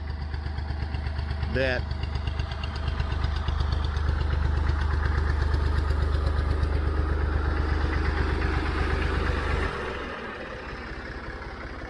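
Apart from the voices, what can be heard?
Massey Ferguson Model 50 tractor engine idling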